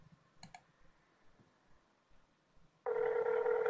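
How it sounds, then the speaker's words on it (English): A telephone rings in the video game Please Hold. After a few quiet clicks and faint sounds, a loud, steady electronic ring tone starts abruptly and continues to the end. "It's ringing. The phone is ringing."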